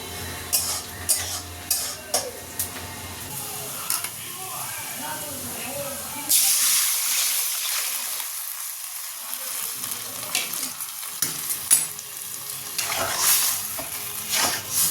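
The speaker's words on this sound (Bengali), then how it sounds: "ডালটা ফোড়ন দিয়ে নিলাম" Spices hitting hot oil while tempering dal in a pan, a steady hiss and sizzle with stirring scrapes, preceded by quieter kitchen sounds.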